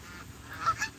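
A couple of short geese honks sound faintly at a distance over a quiet background.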